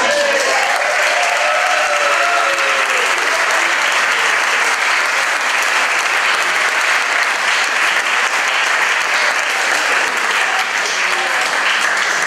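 Loud, sustained applause from the audience at a classical music gala concert, a dense wall of clapping that stays steady for over twelve seconds, with some voices in the crowd.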